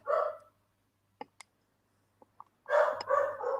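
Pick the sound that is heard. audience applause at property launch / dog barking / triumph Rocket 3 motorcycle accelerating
dog barking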